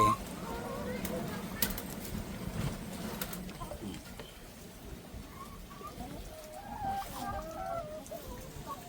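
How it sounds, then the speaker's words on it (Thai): Chickens on a rural Thai farm clucking while being fed water spinach, soft and somewhat distant, with a steady hiss of background noise and faint voices in the surroundings. "เอาผักบุ้งให้ไก่"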